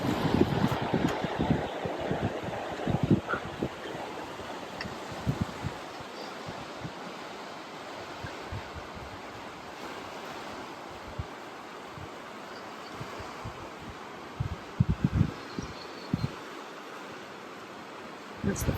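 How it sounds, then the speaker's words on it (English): Wind gusts and water noise beside the Fremont River, a steady broadband rush with buffeting bursts from wind on the microphone, lasting throughout with no talk. "That's the Fremont River."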